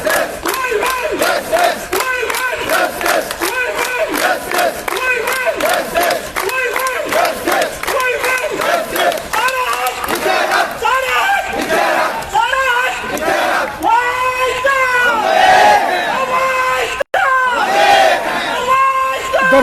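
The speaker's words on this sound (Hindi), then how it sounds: "ये इनकी आवाज़ जो है डिपार्टमेंट के कानों तक पहुंचने के लिए जोर से प्रदर्शन कर रहे" Daily wage workers on strike chant loudly together at a protest, a dense crowd of voices in rhythmic bursts of shouted slogans that carries on without a break throughout.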